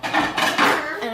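A ceramic bowl of pizza dough set down on an oven rack and covered with a plate, giving a few close, sharp clinks and clatters over about a second.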